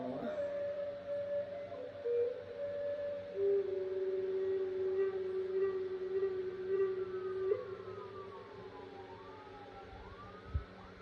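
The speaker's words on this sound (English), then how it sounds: "all kinds of sirens going off out there" Sirens wail from a distance outside, their pitches sliding up and down and overlapping, with a dull background hum and a sharp knock near the end.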